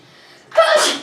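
A single loud, sharp sneeze bursts out after a brief quiet breathy lead-in, close and clear, then fades quickly.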